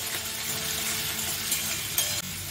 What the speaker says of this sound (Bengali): গাজর ভাজতে খুব বেশি দেরি লাগবে না